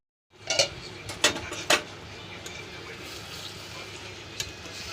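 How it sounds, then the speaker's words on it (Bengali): Fish cooks in a kadai over high heat with a gentle, continuous sizzle. Three sharp metallic scrapes or clinks come near the start, then a fainter one later, and no one speaks. "দেখো আজে আমি বসিয়ে দিয়েছি মাছটা, এবার ঢেকে রেখে দেবো"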